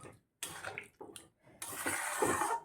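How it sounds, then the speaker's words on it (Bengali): A small amount of water splashes into a cooking pan of fried makka fish with local tomatoes, in short bursts and then a steadier pour, close and fairly loud. "বাটিটা ধুয়ে অল্প জল দিয়ে দিলাম।"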